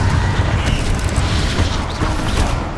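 A Confringo spell blast in the Hogwarts Legacy video game: a dense, continuous booming rumble with crackling bursts, loud and sustained throughout without a clear break.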